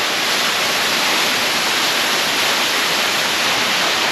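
Waterfall in a gorge along the Gibb River Road, a loud, steady, broadband rush of falling water that fills the scene evenly throughout, with no voices heard.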